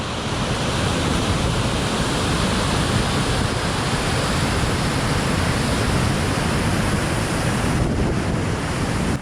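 Steady broadband rush of flowing water at the site of a castle moat, continuous and fairly loud throughout, with no voices.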